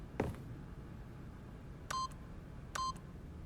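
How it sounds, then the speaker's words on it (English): Two short electronic keypad beeps from The Stanley Parable video game, each a clean steady tone about a second apart, following a brief rustle at the start over a low background hum; no talk. "by simply pushing random buttons on the keypad, Stanley happened to input the correct code by sheer luck"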